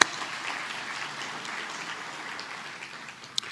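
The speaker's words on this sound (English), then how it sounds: "Round of applause for those folks, please." An audience at a city State of the City presentation applauds event sponsors, a steady mid-level wash of clapping that fills the whole stretch and fades slightly near the end, with no speech over it.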